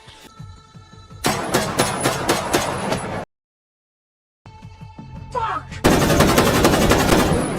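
Gunfire in a film shootout between police and a gang of robbers: loud bursts of rapid automatic shots, a sudden silent gap, then more sustained firing mixed with mechanical squeaks and engine noise.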